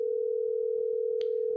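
A phone line holds a steady, unbroken dial tone while placing a call back, loud and close, with faint muffled background noise and a brief click near the end.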